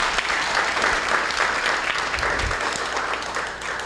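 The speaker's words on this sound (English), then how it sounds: "Round of applause." A round of applause from a tech event audience, a steady wash of many hands clapping for about four seconds, fairly loud and continuous with a slight fade at the end.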